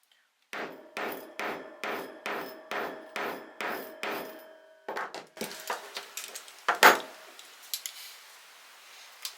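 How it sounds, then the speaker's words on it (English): A hand hole punch is hammered through faux leather with about nine even, sharp strikes, followed by a looser flurry of lighter taps and knocks, close and clear with no talking. "we're going to punch a hole by bashing it through the material here"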